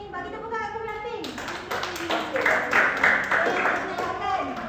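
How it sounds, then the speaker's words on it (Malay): Classroom students clap for the pink group, scattered and uneven hand claps that build in the middle, heard under a teacher's voice and some children speaking. "Bagi tepuk tangan kumpulan pink."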